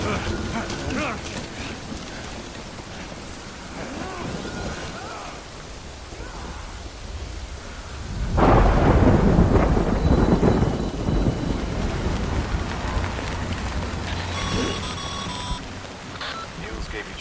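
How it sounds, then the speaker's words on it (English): Rain and thunder in the video game Death Stranding: a steady wash of rainfall with a sudden loud, close thunder rumble swelling midway and lingering, while faint voices murmur underneath. "Good thing it was raining."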